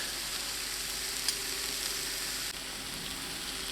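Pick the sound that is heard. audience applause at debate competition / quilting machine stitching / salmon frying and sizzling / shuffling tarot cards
salmon frying and sizzling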